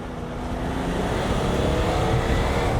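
A BMW G11 7 Series in manual mode keeps up a steady, full engine note from inside the car, with a constant low rumble and road noise over a few seconds and no talking.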